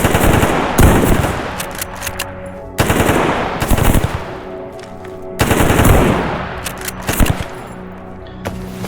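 Gunfire in the video game STALKER GAMMA, with repeated loud bursts of rapid automatic shots separated by short pauses and echoing tails.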